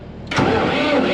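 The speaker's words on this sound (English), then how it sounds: "See if this tractor will start." A tractor imported from Canada is started on a cold day after preheating. The starter catches quickly and the engine settles into a steady, loud idle close by.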